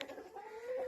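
Chickens cluck softly inside a chicken coop, a short, fairly quiet burst of fowl calls with a faint rising tone.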